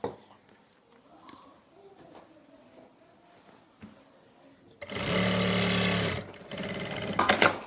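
A sewing machine stitches the belt of a narrow salwar, starting after a quiet stretch with faint handling sounds. It runs loud and steady, pauses briefly, then runs again.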